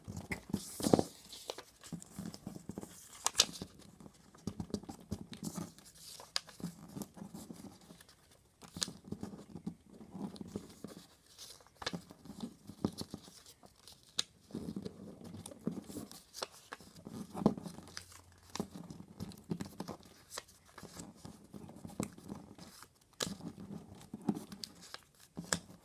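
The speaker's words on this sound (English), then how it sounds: "we're going to fold it the short way" A sheet of paper is folded the short way while making a paper butterfly, giving faint, close crinkles and soft taps scattered irregularly across a quiet stretch.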